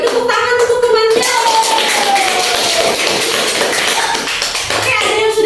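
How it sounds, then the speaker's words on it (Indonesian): Classroom of students clapping for a classmate during a microteaching lesson, a dense burst of hand claps filling the room, close and loud, with some voices mixed in throughout. "Beri tepuk tangan untuk temannya."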